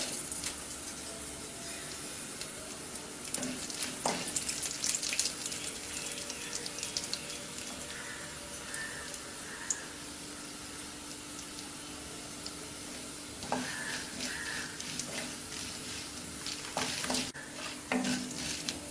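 Urad dal fries in sesame oil for pepper rice, making a soft, continuous sizzle and crackle with occasional stirring scrapes, close but fairly quiet.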